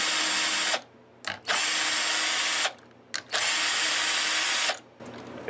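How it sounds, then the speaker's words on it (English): Power drill working on the body of a Canadian-made Explorer-style electric guitar, running in three long loud bursts with short pauses between, close and alone with no talk. "They use the drill in every guitar factory across the world to do this."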